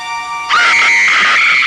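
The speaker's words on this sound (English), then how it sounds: "Lila's scream resonates" A woman's loud, sustained high-pitched scream in a horror scene from the 1960 film Psycho, bursting in suddenly after a faint tonal background and holding at full strength to the end.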